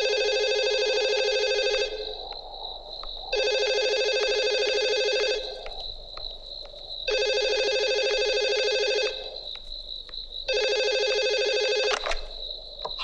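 A telephone rings in an indoor scene from a Hindi thriller film. Four long, loud ringing bursts are separated by short pauses, with no voices.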